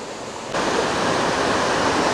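A waterfall near Rangeley, Maine sends up a steady broadband rush of falling water, loud and close, jumping up in level about half a second in and holding constant with no voices.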